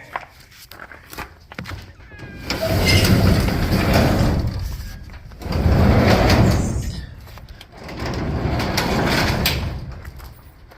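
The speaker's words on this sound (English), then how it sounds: "Let me open up this garage door." A residential garage door being opened, heard as three long, loud rumbling surges of rolling and rattling, with brief quieter pauses between them.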